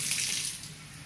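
Water runs steadily from a tap in a dormitory setting, a continuous broadband hiss and splash heard close and alone, without talk.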